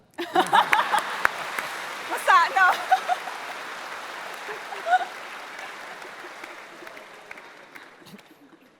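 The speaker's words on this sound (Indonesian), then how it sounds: "Tepuk tangan." Studio audience applause on a talk show about two Islamic scholars, a hissing wash of clapping that starts with voices over it and then slowly fades away.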